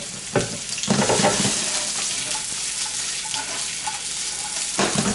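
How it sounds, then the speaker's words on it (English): Onions sauté in a little oil in a pan, giving a close, busy sizzle with clattering stirs and scrapes, rising in short bursts at the start and end. "I'm going to add just a little oil, but again, we're not frying, we're sauteing."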